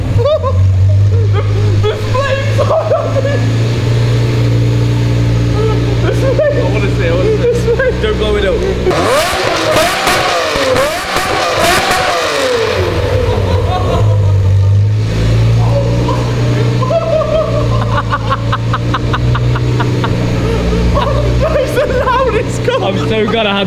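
A Lamborghini Murcielago engine roars and revs hard, swelling to a loud sweeping peak before dropping back to a deep idle rumble, with people talking and laughing nearby.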